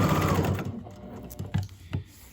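A sewing machine stitches Velcro onto a fabric cover for a weighted heat massager, its steady whirring motor running close and loud, then breaking into short bursts of stitching toward the end.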